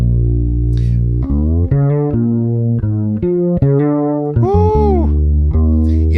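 A melodic electric bass riff with sliding notes and quick fills over sustained low tones, played loud and close with no talking.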